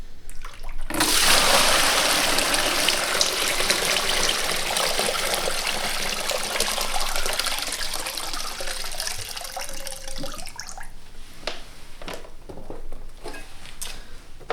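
Water from a wet tile saw used for cutting ceramic tile is poured into a bucket, a loud, continuous gushing splash lasting about ten seconds that then tapers to trickles and scattered drips.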